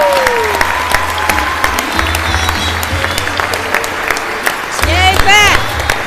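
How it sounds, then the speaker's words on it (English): An audience applauds to welcome a woman to the stage, sustained loud clapping with crowd noise and some cheering voices, plus a few whoops near the end. "please give a round of applause"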